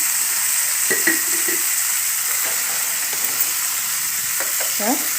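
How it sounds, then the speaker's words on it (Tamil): Country chicken sautéing in a pan with a little salt, a steady close sizzle and hiss of frying running throughout, with a few soft stirring scrapes near the start and end; no talking. "நல்லா இப்படி ஒரு வதக்கிக்கோங்க"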